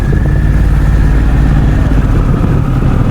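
Harley-Davidson Pan America ST motorcycle engine running steadily up close, a loud continuous low rumble with an even tone and no talk over it.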